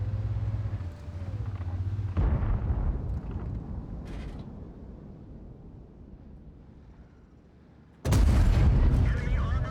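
Heavy tank cannon in World of Tanks firing premium gold rounds at a Mouse tank, with loud booming blasts near the start and a powerful shot near the end over a rumbling battlefield background.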